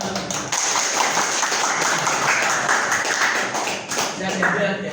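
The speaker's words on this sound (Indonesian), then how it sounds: "tepuk tangan dulu." A classroom of students clapping together in a dense, fairly loud burst of applause lasting several seconds, with a brief pause near the start and a slight dip toward the end.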